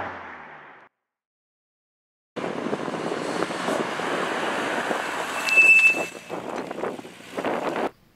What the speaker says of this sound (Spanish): El coche se para y suenan los frenos.